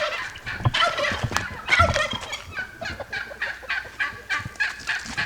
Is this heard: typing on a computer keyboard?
no